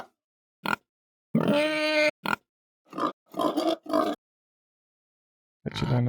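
Pig grunting as a creature sound design sample: a string of separate, close, deep grunts and snorts, one longer and throatier, with silent gaps between them and no voices.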